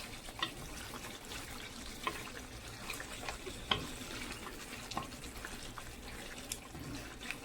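Lamb firfir, an Ethiopian dish, fried and stirred in a pan, giving a steady close sizzle with scattered sharp clicks and scrapes from the stirring, and no talking.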